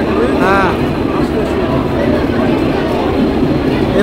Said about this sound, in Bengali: এই যে হাওড়া পুরী সুপারফাস্ট ট্রেন চলে এলো।